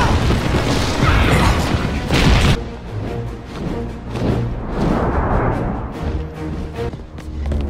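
An animated-show explosion blowing up a Montour stand, a loud booming blast with crashing debris up front that settles into a lower rumbling and mechanical clatter.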